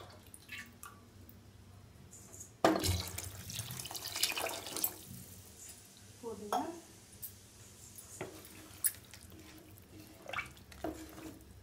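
Water poured onto a tumbler of rice in a home kitchen while making mushroom biryani, a sudden splashing pour that runs for a couple of seconds, followed by quieter drips, clinks of pots and utensils, and occasional faint talking.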